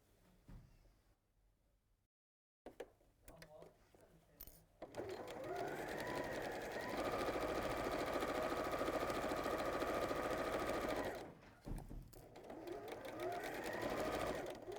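A sewing machine stitches the final seam of a gents apron or waistcoat: a few short bursts and pauses, then a long, loud, steady whirring run with a brief stop and restart, heard close up.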